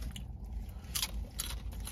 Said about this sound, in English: I ain't never got a hard taco that was this crunchy ever